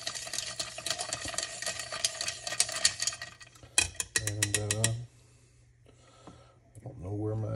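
A spoon clinks and swirls through an Old Fashioned made with Wild Turkey 101 bourbon, a quick run of light rhythmic ticks against the glass, then someone talks over quieter stretches.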